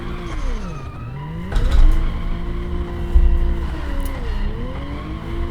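Car engine in the BeamNG Drive video game, driving and drifting on a track: a steady revving whine that sweeps down and back up through gear and throttle changes, with scraping tire noise, loud and continuous.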